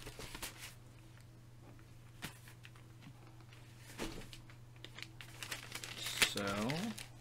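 Packaging crinkles and rustles while a mailed package is unwrapped, soft crackling bursts scattered through the span and growing busier toward the end, with a steady low hum underneath.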